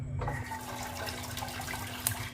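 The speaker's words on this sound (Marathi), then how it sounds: "डाळीचं पाणी पातेल्यात पडणार" Cooked lentil water drains steadily through a strainer into a pot, a soft continuous watery rush with faint splashing, quiet and close.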